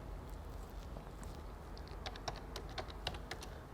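Keystrokes on a computer keyboard entering a one-time passcode on a form, a short run of light, irregular clicks over steady background hiss, faint and fairly close, with no one talking.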